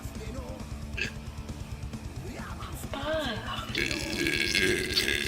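Burping mixed with chatter: a few low, gurgling belches under quiet talk and whispering, then a louder, hissy stretch of voices toward the end.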